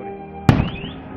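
A single firework launches with a sharp thump at a fireworks display in Veliko Tarnovo, followed by a rising whistle as it climbs away, over a steady background hum.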